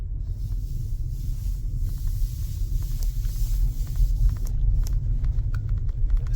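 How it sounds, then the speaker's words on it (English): A small BYD Seagull car rolls over cobblestones, giving a steady low rumble and road vibration throughout, with faint rattles and clicks above the drone and no talking. "The cobblestones are not made for these small cars, but I know my Seagull is going to prevail."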